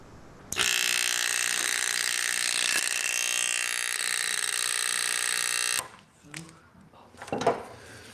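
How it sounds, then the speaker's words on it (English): A ticker timer rattles as it taps dots onto carbon paper in a constant velocity lab, a loud, continuous buzzing clatter lasting about five seconds before it cuts off, followed by faint handling noises. "I'm going to go ahead and turn on the ticker timer right now"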